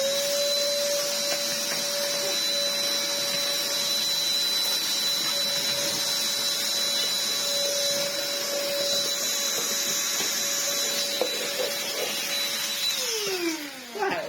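A Black & Decker DustBuster Flexi handheld vacuum runs with a steady whining hum and rushing airflow, close and constant, then its pitch slides down as the motor winds off at the end.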